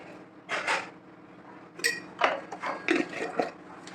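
Spoon scooping two spoonfuls of semolina (rava) from a container in a home kitchen, giving a few scattered metallic clinks and scrapes close up.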